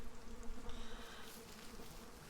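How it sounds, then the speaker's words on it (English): Bees buzzing in the video game We Happy Few, a soft, continuous droning hum with a slight wavering pulse, faint and unbroken by any talk. "Those are bees"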